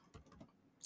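Brief typing on a computer keyboard: a few soft, quiet key taps close by, ending in one sharper click, no voices.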